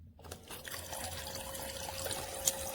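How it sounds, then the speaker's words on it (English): A battery-operated toy sink faucet pump recirculates water from its basin, giving a steady close trickle and splash with a faint motor hum running throughout. "this is a battery operated pump that works as a faucet"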